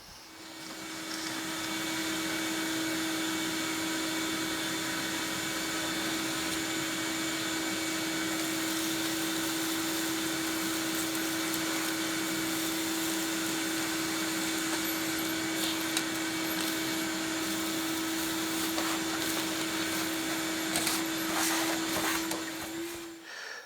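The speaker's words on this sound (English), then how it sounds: "So we'll just vacuum it out." A vacuum cleaner runs continuously as it sucks debris out of a Sears Suburban mower deck, a loud steady whine with a strong constant tone and scattered rattles of dirt being pulled up, no talking.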